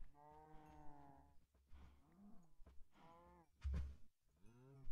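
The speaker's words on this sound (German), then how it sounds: "So, ich kill jetzt noch mal eine Kuh." Cow moos in a Minecraft modpack game, several drawn-out lowing calls in a row, close and clear with short gaps between them.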